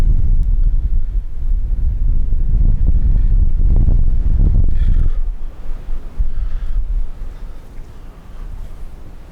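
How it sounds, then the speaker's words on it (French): Strong wind gusting outdoors at an abbey, heavy buffeting roar against the microphone that swells loudly for several seconds, then eases into lighter, intermittent rustling. "Oh, le vent se lève."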